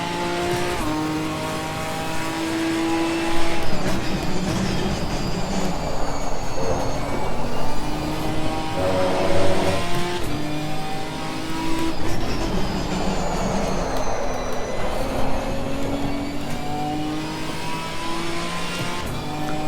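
A Ginetta G55 GT4 race car in Assetto Corsa Competizione roars on track, its engine continuously loud as it revs up and down through gear changes and corners, with brief tire squeal and no talking.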